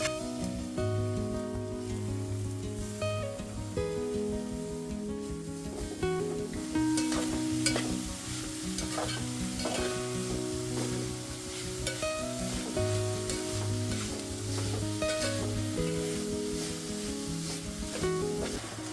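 Grated coconut and jaggery are stirred in hot oil in a pot, giving a steady sizzle with repeated scraping strokes of the spoon throughout, close and continuous, with no voices.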